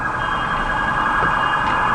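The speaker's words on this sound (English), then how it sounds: "I'll let the sirens pass by" A loud, steady wail of emergency sirens over rumbling traffic noise, droning without pause.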